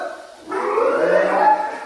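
A child imitates a fart with a buzzing, sputtering vocal sound, close and sustained for over a second.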